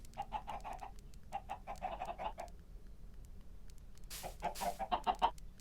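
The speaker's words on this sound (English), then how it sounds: "There's just chickens everywhere." Chickens clucking all around in a blocky Minecraft-style game world, repeated short clucks in bursts with a pause midway, then a louder cluster of calls near the end, no voices.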